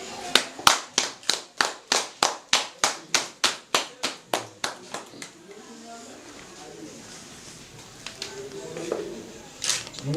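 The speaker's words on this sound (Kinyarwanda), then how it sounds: "Ubuha amashyi." At a Rwandan wedding ceremony, a crowd claps in a steady rhythm of about three sharp claps per second for roughly five seconds. The clapping then fades into quieter murmuring voices and scattered sounds.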